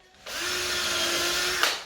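A power drill with a 3mm bit bores a pilot hole for a floating shelf. The whirring motor kicks in abruptly, runs steady and close for about a second and a half, then stops.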